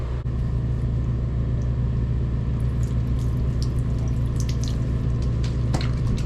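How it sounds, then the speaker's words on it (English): Water mixed half and half with vinegar is forced backward through a hiking water filter, making a steady, loud rushing and gushing flow with a low rumble underneath and a few splashy spatters near the end. "So this is half water and half vinegar. And I've been leaving this guy soak in here for the last couple hours, so I want to back flush it"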